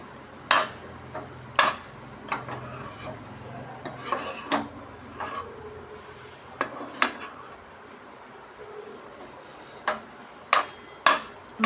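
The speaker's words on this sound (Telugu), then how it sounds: "ఈ ధనియాల పొడి కూడా అన్నానికి బాగా పట్టేలాగా కలుపుకోవాలి" Coriander powder being stirred into tomato rice with a metal spoon, giving sharp scattered clinks against the pot at irregular intervals, quiet between strikes and with no talk.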